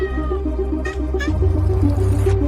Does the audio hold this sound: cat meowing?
yes